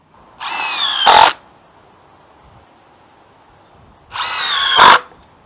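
A power drill drives screws to fasten a wooden board down, heard as two loud whirring bursts about three seconds apart, each rising in pitch and load near its end, with quiet between.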